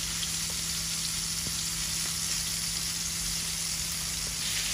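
Onions fry in a pan for a Bangladeshi fish curry with pointed gourd and potato, giving a steady, dense sizzle throughout, close and even, with a few faint clicks and no talking.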